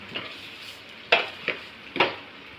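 Onions and tomatoes sizzle softly in a pan, a low steady fry punctuated by three sharp stirring clinks of a spoon against the metal.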